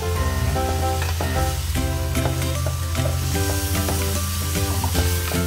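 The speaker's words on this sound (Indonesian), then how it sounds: "Kita aduk biar merata, tercampur semua bumbunya." Zongzi filling of chicken and mushroom, seasoned with sugar, salt, pepper and mushroom stock, sizzles loudly in a pan while a utensil stirs through it with repeated scraping strokes, close and continuous, with no voices.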